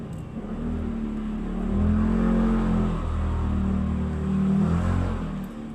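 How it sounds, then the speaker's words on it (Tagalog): Several motorcycles passing nearby on a street, their engines humming and swelling in two broad waves as they go by, steady traffic noise with no talk. "Ang daming motor."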